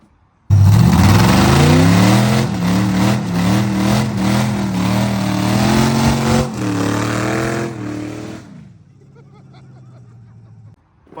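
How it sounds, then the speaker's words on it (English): A V8 Cutlass doing a burnout while running on only five cylinders with no exhaust and no tune, a loud, rough, raw engine roar with rising and falling revs for about eight seconds, then dropping to a lower idle. "this burnout I'm gonna drop in this video, that was on 5 cylinders"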